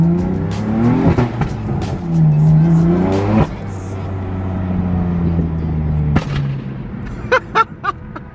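A BMW F80 M3 with a loud exhaust accelerates hard, its engine note rising through repeated sweeps with sharp pops and crackles near the end, close and dominant.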